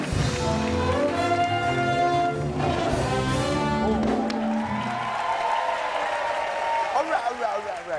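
Studio audience applause on a music show where kitchen utensils are played as instruments, rising under a fading musical tone and voices, then continuing as dense clapping.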